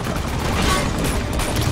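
Gunfire aimed at rockets mounted on a helicopter in Uncharted 2, a continuous loud barrage of rapid shots and blasts blurring into a dense roar with no talk.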